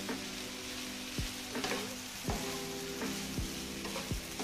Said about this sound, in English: We'll stir that all together.